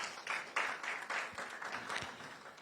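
Faint, sparse applause from an audience at a national science quiz championship launch, a few distinct bursts of clapping rising and falling over a couple of seconds.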